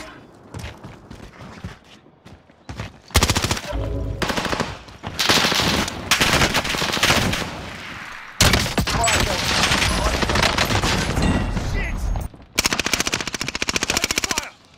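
Video game gunfire in long bursts of rapid machine-gun fire, loud and close, broken by short pauses, with faint speech in the quieter gaps.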